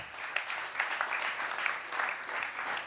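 Audience applause at a web awards ceremony, honoring a winning project; steady dense clapping fills the whole stretch at moderate level, with no talk over it.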